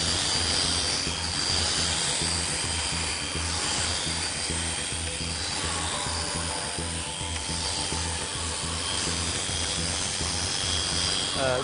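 Electric shears drone steadily and loudly while shearing fleece from an alpaca's lower hind leg, a continuous close motor whine with no pauses.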